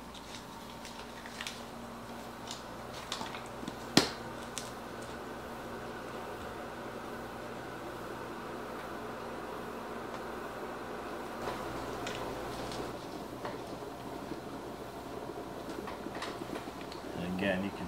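A single-serve coffee maker on its bold setting heats and boils water with a steady low churning hiss and faint ticks and bubbling, quiet and continuous, with a person talking over it.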